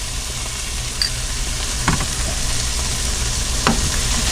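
Soup ingredients for hot and sour egg drop soup sizzle steadily in a hot pot as they are stirred, a close continuous frying hiss with a couple of soft scraping knocks from the utensil.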